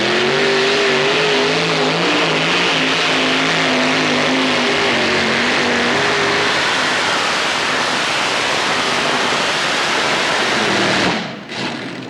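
Loud, roaring engine of an unlimited class tractor pulling vehicle straining at full throttle during a full pull at a New Year's event in Macon, Missouri, holding steady before cutting off abruptly near the end.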